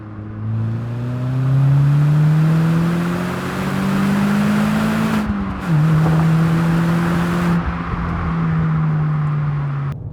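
A Fiat Panda 100hp engine climbs through the gears, rising in pitch with each pull, with brief dips at the gear changes. The sound is loud and close, as from inside the car, with no talking.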